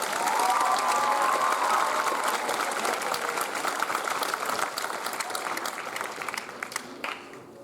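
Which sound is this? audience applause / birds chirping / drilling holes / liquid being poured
audience applause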